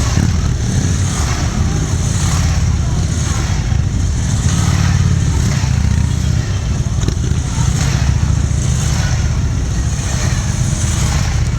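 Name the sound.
motorcycle team riding off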